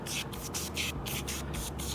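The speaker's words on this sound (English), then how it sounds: "We're gonna spray these down." Foam cleaner sprayed onto grimy tools in short repeated hissing bursts, about seven quick pulses in two seconds, close and fairly quiet.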